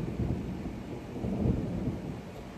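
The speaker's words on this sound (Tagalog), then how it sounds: "Umuulan, naririnig nyo guys, kumukulog." A low, rolling rumble of thunder blends with steady rain, a continuous wash of noise with no talking.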